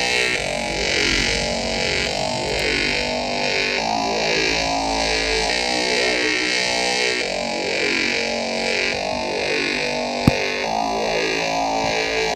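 A monster from the My Singing Monsters video game sings a distorted, effects-laden vocal track that loops in a steady pulsing rhythm, loud and unbroken, with no talking over it.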